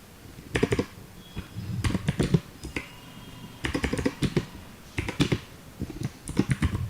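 Someone types Rust code on a computer keyboard nearby, in short irregular bursts of clicking keystrokes separated by brief pauses, with no talking.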